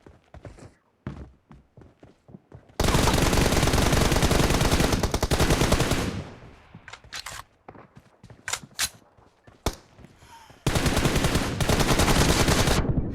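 Loud automatic gunfire from a PUBG team deathmatch played on a Xiaomi Mi 12T, with scattered single shots and short bursts giving way to long sustained volleys that fill the soundscape, separated by a stretch of sparser reports.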